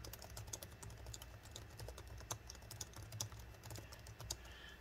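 Fingers type quickly on a Lenovo Legion Y540 laptop keyboard, making a fast, irregular run of soft key clicks. The typing is quiet and close, with no voices.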